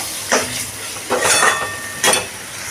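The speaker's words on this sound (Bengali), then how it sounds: "দিয়ে এটাকে আবার একটু কষিয়ে নিচ্ছি।" Chopped tomato is sautéed in a pan for a Bengali shapla and shrimp dish, with three distinct bursts of spatula scraping and stirring over a soft, steady sizzle, close and with no talking.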